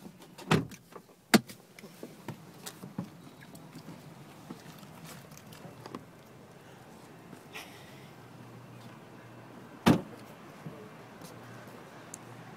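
The trunk lid of a 2013 Volkswagen Jetta Hybrid shuts with a few sharp, solid thunks, one near the start and a louder one later, against a quiet background.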